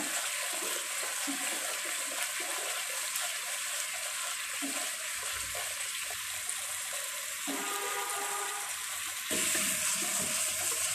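Ground turmeric and chili powder fry in hot oil in a pan for a khasi and chicken meat curry, giving a steady, even hiss that grows slightly louder near the end, with no talking.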